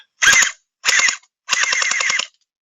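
A VDD Toys M16 gel ball blaster with a drum magazine fires three loud, rapid bursts in full-auto, each a fast rattle of shots separated by short pauses, the last burst the longest.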